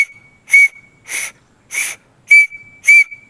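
Partridge (teetar) call whistle blown in five short, sharp, high whistling bursts at a steady rhythm, close and loud, with brief silences between them.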